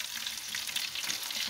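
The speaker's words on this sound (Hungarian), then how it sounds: "Itt sül benne a finom hajnal lecsókolbászom." Sausage frying in a pot for a Hungarian bean pottage, giving a steady, close hiss of sizzling fat with crackling pops throughout, no voices.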